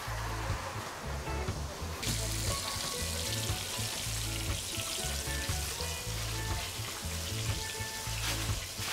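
Bake dough fries in hot oil for Trinidad-style bake and fish in Manzanilla, Trinidad and Tobago. A loud, steady crackling sizzle runs throughout with constant bubbling, close up.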